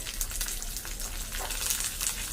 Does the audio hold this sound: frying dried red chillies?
yes